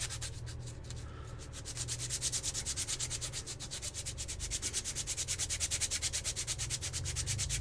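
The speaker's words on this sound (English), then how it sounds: "Using some sandpaper" Steady rhythmic rubbing of sandpaper across foam for fursuit ears, a close, continuous scratchy back-and-forth that speeds into quick even strokes, with no talking.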